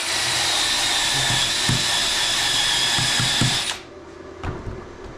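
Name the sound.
MIG welding with Arccaptain MIG130 welder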